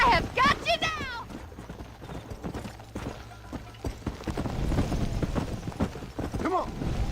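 Horse galloping in the game Red Dead Redemption, steady rhythmic hoofbeats thudding close and clear beneath excited speech from a rider urging the animal on.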